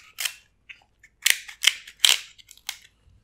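Kitchen scissors crunch and snap through a boiled king crab shell at a Cajun seafood boil, a series of sharp, close cracks and clicks in uneven bursts with brief gaps between.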